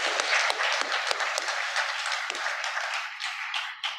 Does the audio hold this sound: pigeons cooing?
no